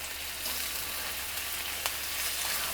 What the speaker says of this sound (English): Going to add a bit of oil, and I'm gonna go ahead and sear the shrimp.